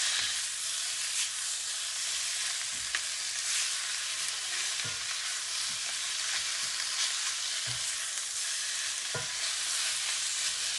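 Continuous hissing sizzle of food stir-frying in a wok, with occasional scraping and clinks of stirring, no talking.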